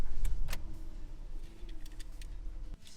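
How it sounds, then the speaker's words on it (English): A Honda's engine cranks and starts on a newly programmed key, with a key jingle and a low, steady rumble building near the mic before cutting off abruptly near the end. "Now we're going to start the engine."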